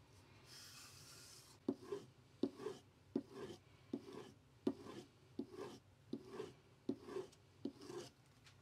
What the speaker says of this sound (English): I'm just going to strop these a few times, not much